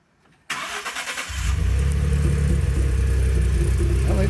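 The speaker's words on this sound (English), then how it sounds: "we are back with our 2011 Ford F-150 with the suspected exhaust leak" A 2011 Ford F-150 with a suspected exhaust leak cranks for about a second, catches and settles into a loud, steady idle close by.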